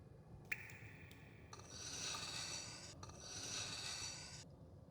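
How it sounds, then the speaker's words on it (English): A rod being sharpened in the PC adventure game Black Mirror: two sustained rasping file strokes, each a couple of seconds long, preceded by a brief sharp click, heard alone at moderate level. "I'll try to sharpen the rod a bit."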